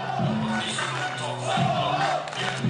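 A beach volleyball crowd at a 2015 World Championship match roars and chants continuously, loud and dense throughout, with voices rising and falling in the mass of noise.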